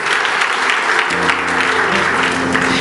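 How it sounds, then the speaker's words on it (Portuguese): A church congregation at a Sunday night worship service claps in loud, dense, sustained applause throughout, with a low steady musical tone joining underneath partway through. "Aplaudir o Senhor por seu cuidado mais uma vez."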